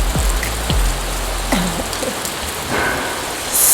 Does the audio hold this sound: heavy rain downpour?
yes